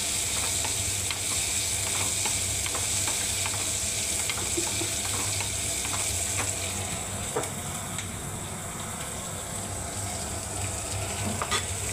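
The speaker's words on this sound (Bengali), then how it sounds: "এবারে পেঁয়াজগুলো ঢেলে দিচ্ছি এর মধ্যে।" Onions fry in a hot pan while a raw mango chutney is cooked, giving a constant hissing sizzle with light scraping and clicking stirs spread across it. Nobody speaks.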